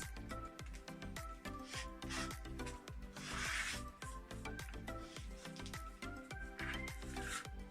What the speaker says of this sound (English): Then I fold the fabric in 4. Then I will cut it 28 by 28.